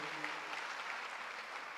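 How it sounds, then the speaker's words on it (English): Steady applause from an audience at an induction ceremony for newly qualified medical and dental practitioners, a dense even wash of many hands clapping throughout. "Can we give them the applause?"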